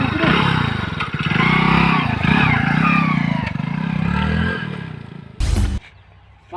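A nearby motorcycle engine runs with a throbbing low rumble and brief revs under loud conversation, ending with a short clatter.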